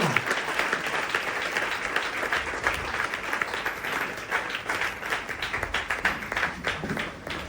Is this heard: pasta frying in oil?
no